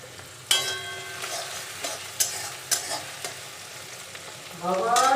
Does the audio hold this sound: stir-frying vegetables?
yes